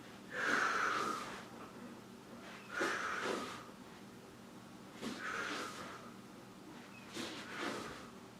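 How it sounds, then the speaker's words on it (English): Deliberately exaggerated breaths, mostly forceful exhalations, accompany jujitsu movements in four loud, breathy bursts spaced about two seconds apart, with no talking. "the breathing, I'll exaggerate it so you can hear it"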